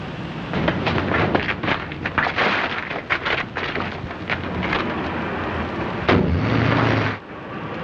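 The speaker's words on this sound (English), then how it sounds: "Explosion in 93 Madeira Drive." Loud, rumbling blast with rolling crashes and debris-like roars sustained over several seconds, a heavy burst near the end, at a house on Madeira Drive in a 1938 crime film.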